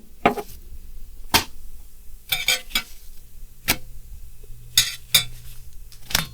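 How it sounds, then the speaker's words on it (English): Knife scraping and tapping across a very hot pan while carnitas are flipped, a string of sharp metallic clanks and scrapes at an irregular pace, close and loud, with no talking. "I'm using a knife to flip them over. That scraping is irritating, I know."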